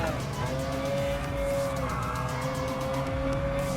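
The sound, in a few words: McLaren F1 GTR race car engine in Gran Turismo Sport video game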